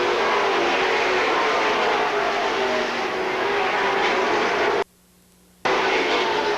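Stock race cars on the last laps at Seekonk Speedway in 1984, engines roaring as a steady loud drone from a pack circling the track, cut by a short sudden drop near the end.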